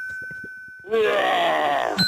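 A person imitates a tiger with a rough, drawn-out vocal growl lasting about a second, preceded by a steady electronic tone and soft background talk.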